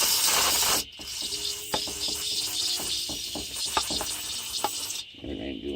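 Brake cleaner hisses from an aerosol can during a steering leak repair, a loud broadband spray that cuts off briefly, then resumes under scattered clicks and rubbing, stopping again near the end.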